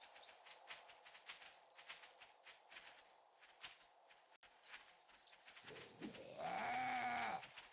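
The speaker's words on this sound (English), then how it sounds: "This pig over there." A pig in the 7 Days to Die survival game, faint and distant at first with soft footstep-like taps. A louder, drawn-out squealing grunt rises near the end.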